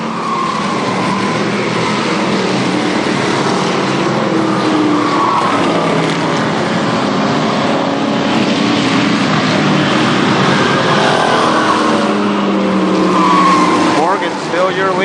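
Race cars roar around Columbus Motor Speedway during the 1998 SuperStar Shootout feature, a loud, continuous engine drone with a passing swell near the end, while an announcer talks over it.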